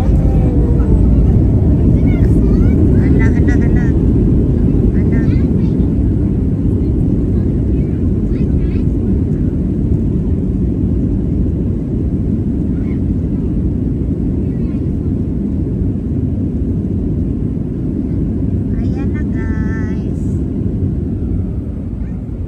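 Cabin of a Virgin Australia airliner landing in Adelaide, South Australia: a loud, steady low roar of engines and airflow fills the whole stretch, easing slightly toward the end, with occasional faint cabin sounds and soft talk.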